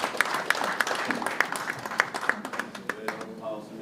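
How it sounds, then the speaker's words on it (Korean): An audience at a political party event claps in scattered, uneven applause, fairly faint and thinning out over a few seconds, with voices murmuring underneath. "힘찬 박수를 부탁드리겠습니다."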